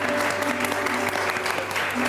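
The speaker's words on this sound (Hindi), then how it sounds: "ताली होनी चाहिए ऐसे आदमी के लिए" Audience applause at a gathering, steady and fairly close, holding evenly for a couple of seconds over a faint constant background tone.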